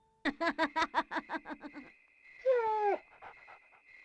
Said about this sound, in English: We hear the dog again and follow the sound up the hill